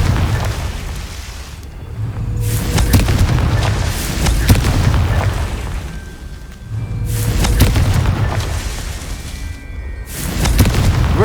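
Confringo explosive spell blasts in the video game Hogwarts Legacy, with loud rumbling booms swelling and fading in repeated waves every few seconds.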